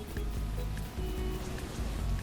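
Rain falling in the game Bloodlines, a steady close patter on surfaces with a low rumbling wash underneath, continuous for a couple of seconds with no clear voice.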